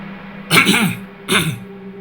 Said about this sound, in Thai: หลวงปู่ก็ได้กระแอมออกมา เสียงดัง